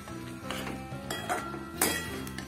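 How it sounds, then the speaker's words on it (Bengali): Fried eggplant is stirred into spinach in a cooking pan, a spatula scraping and clinking against the metal in irregular strokes, close and alone. "এবার আমি বেগুন ভাজাটা এর সঙ্গে মিশিয়ে দেব।"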